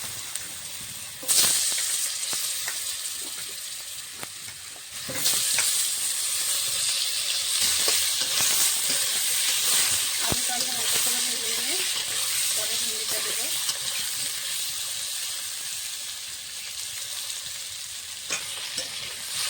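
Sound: frying potatoes in oil left from frying rohu fish

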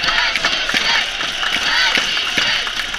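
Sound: hockey fans cheering for the teams

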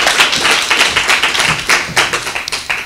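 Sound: audience applause for the book's author

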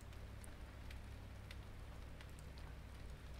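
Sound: rain in the video game Ylands

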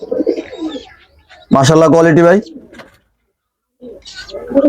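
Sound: pigeon cooing

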